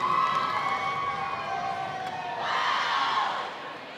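Crowd cheering and whooping fills a gym before the final match of an NCAA Division III volleyball championship, Webster versus host Elmhurst College, a steady roar that swells louder toward the end.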